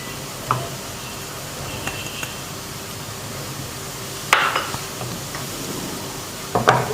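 Fried potatoes being mashed in a pan for aloo halwa: soft scraping and stirring with a few sharp metal clanks of the utensil against the pan, fairly faint and close, with no talking.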